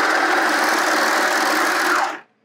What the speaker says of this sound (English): I'm going to sew down this little short side to create a circle.